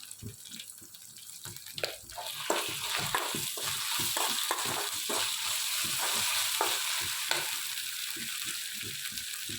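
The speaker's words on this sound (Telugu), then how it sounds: "అల్లం పేస్ట్ వేసుకొని చేసుకోవాలి పచ్చి వాసన పోయేంత వరకు" Ginger paste frying in a pan, a loud continuous sizzle with rapid rhythmic stirring scrapes. A fainter stretch at the start grows louder and steadier.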